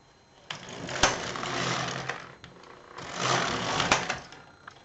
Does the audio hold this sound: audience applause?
no